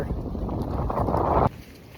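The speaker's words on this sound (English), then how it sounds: "It's windy." Strong wind buffets the microphone in a loud, continuous low rumble that gusts and swells, then abruptly drops to a quieter breeze near the end.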